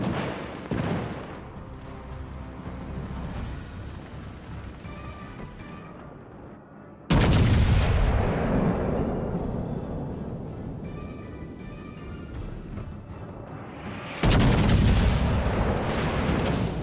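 Heavy warship artillery in World of Warships: Legends, with three loud booming salvos spaced several seconds apart, each rolling out into a long, fading rumble.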